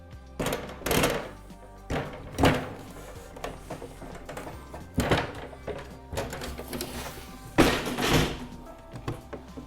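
The bar of a tapo-fix S series pasting machine GT N table is raised and its legs are dropped and locked into place, giving a series of close metallic thunks, clanks and rattles at irregular intervals.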